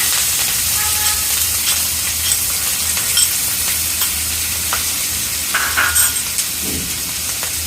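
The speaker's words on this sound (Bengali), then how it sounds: "এখন আমরা দিয়ে দিচ্ছি তেলের মধ্যে রসুন পেঁয়াজ।" Garlic and onion sizzle steadily in hot oil in a wok used for frying fish, a continuous close hiss with occasional clinks and stirring scrapes, no talk.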